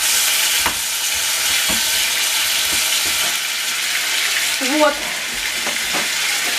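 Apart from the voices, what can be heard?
rabbit meat frying in a pan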